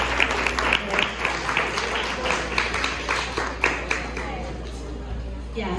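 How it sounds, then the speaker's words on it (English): Applause from guests at an engagement party: a steady patter of many hands clapping with scattered louder claps, mixed with crowd chatter and voices throughout. "Let's give him a big round of applause."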